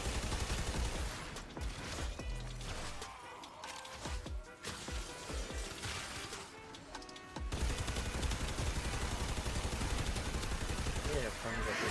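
Weapons fire in the Warframe video game, dense repeated shots and impacts in a busy, continuous battle mix with brief quieter gaps, someone talking over it.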